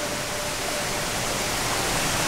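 A waterfall in Australian bushland pours in a steady, dense broadband rush of falling water, constant and fairly close throughout, with no voices over it.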